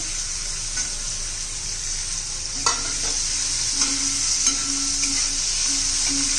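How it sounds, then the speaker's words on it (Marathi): Onion being stirred and fried in oil for a spinach bhaji, a bright steady sizzle broken by repeated scraping strokes of the spoon against the pan. "कांदा चांगला परतून घेणार आहोत आपण,"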